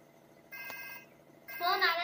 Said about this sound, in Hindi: फोन आ रहा है, एक सेकेंड।